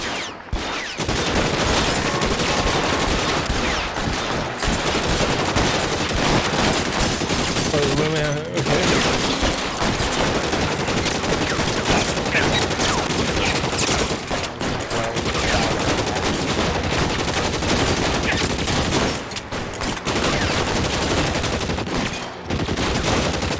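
A shootout in L.A. Noire: loud, dense volleys of gunfire crackle almost nonstop, broken by a few brief lulls, with muffled voices under the shots.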